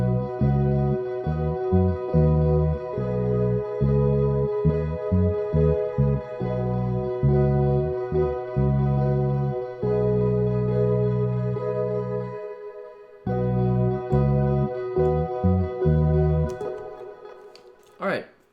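Distorted, reverb-soaked bass and a regular guitar play together in an Ableton Live mix, a chugging rhythmic riff of stabbing chords with brief pauses, loud and steady before a final cutoff.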